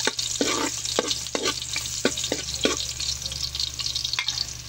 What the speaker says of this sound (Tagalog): nilagay na po ang bawang sa mainit na mantika